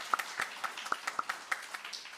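A small church congregation at a Unitarian Universalist Sunday service gives light, sparse applause for the musicians, a few scattered claps spread unevenly over a couple of seconds at low level.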